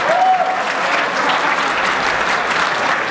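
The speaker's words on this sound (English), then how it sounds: "Then there's applause." Loud, sustained audience applause fills a PAX East panel hall, a dense steady roar of clapping with a brief whistle near the start and no pause throughout.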